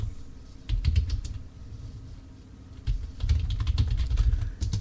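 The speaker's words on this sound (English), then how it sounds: "as you can tell, I'm typing it in now" Computer keyboard keys clatter in quick, uneven bursts of typing, close and fairly loud, with a short pause in the middle before the tapping picks up again; nobody speaks.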